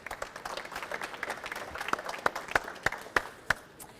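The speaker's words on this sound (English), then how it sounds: "Could we have an applause for him?" A small crowd at a photo and video contest award event claps, scattered at first and then settling into a few sharper, distinct hand claps toward the end.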